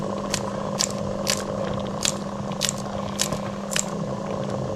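Scissors snip fresh chillies in about nine crisp, evenly spaced cuts, close by over a steady low background hum, with no talking.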